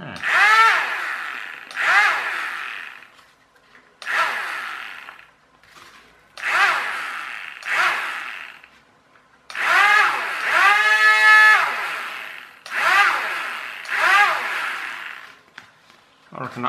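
An RC Sky Hunter 230 model plane's electric motor, suspected of a loose wire at its back, whines up and down in short, uneven bursts of about a second each, cutting out and restarting repeatedly.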